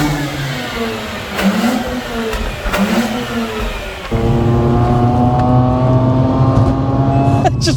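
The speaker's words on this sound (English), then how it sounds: "It just revs forever." A Mazda RX8 R3 engine revs hard and loud: rising and falling revs at first, then a sustained high-pitched wail held for several seconds near the end.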